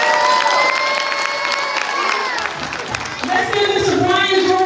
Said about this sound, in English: Let's give Mr. Brian Jordan another big round of applause